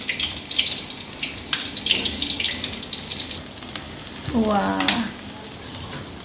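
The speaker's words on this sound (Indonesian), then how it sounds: "kemudian kita tumis kita punya bawang yang kita sudah tumbuk tadi" Pounded shallots, garlic and shrimp paste stir-frying in a wok, a steady sizzle with scraping stirs, with a splash of running water and a brief voice exclaiming.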